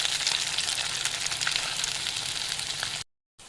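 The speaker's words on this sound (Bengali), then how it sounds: "এপিট ওপিট করে লাল করে ভেজে নেব।" Egg piyaju fritters fry in hot oil, giving a steady, close, fairly quiet sizzle that cuts off abruptly near the end.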